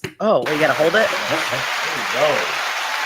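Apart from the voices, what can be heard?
audience applause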